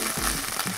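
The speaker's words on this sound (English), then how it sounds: "the tomato paste is starting to caramelize" Tomato paste sizzling and frying in a pan for tortilla soup, giving a steady, close hiss with faint soft crackles and no voices.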